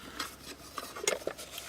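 Metal camping pots from a camping cookware set knock and scrape against each other as they are handled, a few close clinks and rattles in quick succession.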